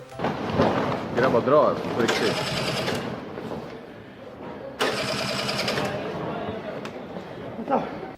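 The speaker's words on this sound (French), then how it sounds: "Au moment de repartir, les deux braqueurs n'arrivaient pas à faire démarrer le scooter." A scooter engine failing to start, with repeated rapid churning cranking bursts that rise and cut out a few times, under ongoing speech.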